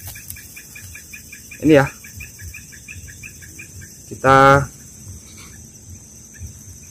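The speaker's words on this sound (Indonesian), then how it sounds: "akan pikatkan lagi burung kutilang albino ini ya teman-teman" An albino sooty-headed bulbul (kutilang) gives two short, bright chirping bursts, the second louder and longer, with a voice speaking quietly and faint insects trilling in the background.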